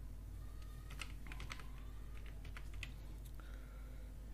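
Computer keyboard typing: a quiet run of irregular key clicks, some in quick clusters and others spaced apart, close to the microphone, no one talking over it.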